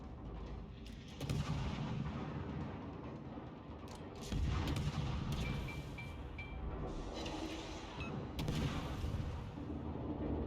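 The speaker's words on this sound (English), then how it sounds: "basically gonna get in a gunfight with the T-61 now" Naval gun salvos from the destroyer Shiratsuyu and the T-61 in a warship video game, with repeated heavy booms and rolling fire layered over a steady engine-like rumble, continuous and fairly loud.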